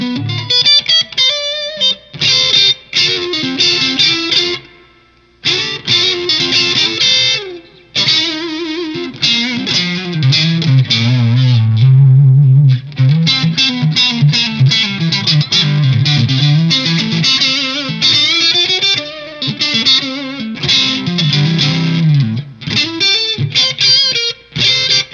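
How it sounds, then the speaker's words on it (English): An electric guitar played through a Nobels ODR-S overdrive pedal set for a near-clean tone rings out in loud, sustained chords and runs with slight grit, pausing briefly a few times before continuing. "Let's see if we can get kind of a surrogate clean tone out of the overdrive here."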